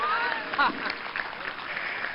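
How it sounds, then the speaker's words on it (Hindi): An audience at a yoga initiation gathering in Talegaon Dabhade, Pune, claps in a steady, fairly loud round of applause that carries on for the whole stretch, with some voices audible through it. "एक बार ताली जोर से तो बजाओ"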